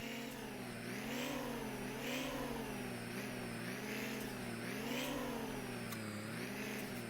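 Tractor engine in the Farming Simulator video game, pulling a trailer: a steady, continuous mid-pitched drone that rises and falls gently in pitch, heard alone with no talk.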